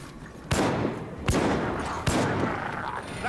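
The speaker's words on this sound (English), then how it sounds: "There's another rattling gunner somewhere around here. I can hear it." A Rattling Gunner in the Vermintide video game fires in three separate sharp bursts about a second apart, moderately loud gunfire cracks with a rattling tail between them.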